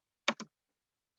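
Two quick keystrokes on a computer keyboard click close together, followed by silence and the start of another tap at the very end.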